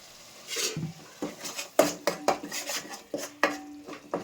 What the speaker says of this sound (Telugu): పచ్చివాసన అయ్యే వరకు కలుపుకోవాలి కలబెట్టుకోవాలి